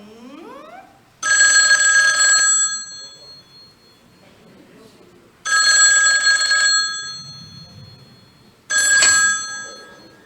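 Telephone ringing in a radio studio during a call-in show: three long electronic ring bursts with pauses between, loud and clear, no talk over them.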